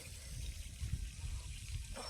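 Water poured onto fresh cement plaster on a house trickles and dribbles out through a small pipe, a soft, close, continuous gurgle with low rumbling underneath.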